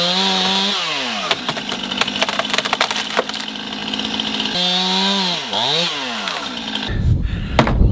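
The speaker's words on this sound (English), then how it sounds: "The chainsaw isn't feeding itself oil." A chainsaw with a failing oil feed revs and bogs as it bites through willow branches, its engine pitch swooping up and down with dense crackling of splintering wood, loud and close.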